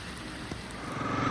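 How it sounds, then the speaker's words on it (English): Steady rain pattering on a surface around a Honda CRF300 Rally motorcycle on a ride home from dinner, a continuous soft hiss with a few brief louder drops, fairly faint and with no talking. "on the way home from dinner it started raining again"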